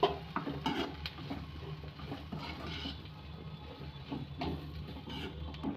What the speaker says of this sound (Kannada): ಕಾಯಿ ತುರಿ ಹಾಕ್ಕೊಂಡು ಮಿಕ್ಸ್ ಮಾಡ್ಕೊಂಡ್ಬಿಡ್ಬೇಕು